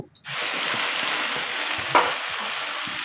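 Ground spice and onion paste dropped into hot oil left over from frying shrimp, bursting into a loud, steady, close sizzle after a brief silence, with one scrape partway through.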